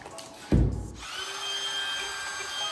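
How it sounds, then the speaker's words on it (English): A DeWalt trim router starts up and cuts into a wooden door, a sharp close burst at first that settles into a steady high-pitched whine. "We're going to try out this DeWalt router over here on this door, see how it works out."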